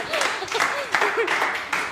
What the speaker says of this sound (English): Everybody, please clap.